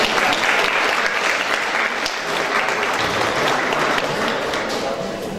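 Warm, sustained audience applause at a school Christmas Eve gathering in Dobieszowice, Poland, a dense even wash of many hands clapping that fades slightly near the end.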